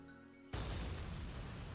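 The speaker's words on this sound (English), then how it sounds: "An explosion has occurred on board." An onboard explosion in the video game Valkyria Chronicles 4 hits after half a second of quiet hum: a sudden loud boom that settles into a sustained, rumbling roar for the remaining second and more.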